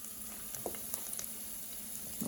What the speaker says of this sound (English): So when you see the jeera is sizzling, it'll sizzle in a few seconds.